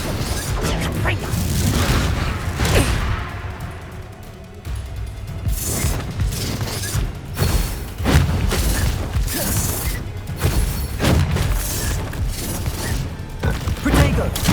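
Spell blasts and explosions in the Hogwarts Legacy video game during combat: repeated loud booms, crashes and thuds in quick succession with a dense, continuous battle din and some voices.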